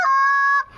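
A single drawn-out whine on a Haydel H2 short reed Canada goose call, loud and nasal, ending in a short sharp spit note that cuts off abruptly.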